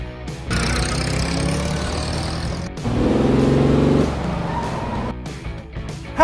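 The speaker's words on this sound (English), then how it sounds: "Mail truck." Mail truck engine humming and revving, close and continuous, with a steadier, louder idling drone in the middle before fading into lighter clicks.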